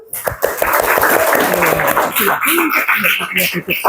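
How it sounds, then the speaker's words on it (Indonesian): Classroom applause from schoolchildren for their classmates, brisk clapping in the first half mixed with chatter and laughter, close and loud, then fading under talk. "Kita beri tepuk tangan"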